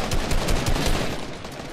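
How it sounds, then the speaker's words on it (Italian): Rapid bursts of gunfire from a battle royale video game, loud and dense with several quick shots close together, filling the whole moment without speech over it. "Sparo."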